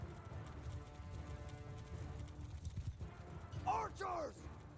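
Horse hooves clip-clopping in the Mount & Blade 2 Bannerlord video game, a steady low trotting rhythm under a bustling battlefield din, with a brief whinny-like cry rising near the end.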